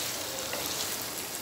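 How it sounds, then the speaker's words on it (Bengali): Chicken being stirred and cooked in a pan for a chicken roast, giving a steady, soft sizzle with light scraping throughout, close by and fairly quiet, with no talking. "আর এখন আমি আবারও ভালোভাবে নেড়ে চেড়ে 2 মিনিটের মতো রান্না করে নিচ্ছি।"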